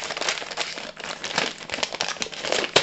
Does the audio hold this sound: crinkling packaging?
yes